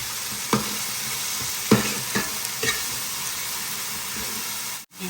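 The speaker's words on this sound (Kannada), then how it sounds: "ಎಲ್ಲ ಸ್ವಲ್ಪ ಫ್ರೈ ಆಗಲಿ, ಲೈಟಾಗಿ ಫ್ರೈ ಆಗಲಿ" Coriander and green chili paste frying in a pan, a steady close sizzle and hiss with a few soft scrapes of stirring and no talking.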